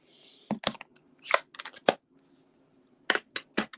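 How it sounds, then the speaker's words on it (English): Scissors fussy cutting a stamped paper image for card making: a series of crisp, close snips in two bursts separated by a short pause. "I'm going to fussy cut this out as well"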